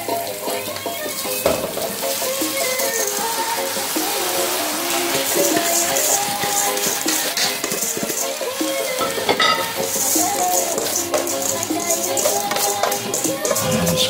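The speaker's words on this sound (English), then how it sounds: "I'm going to add my rice." Rice is stirred into a pot of Jamaican-style curry vegetable stew with green peas and carrots, a steady sizzling and bubbling with scraping stirs and wet clatter throughout.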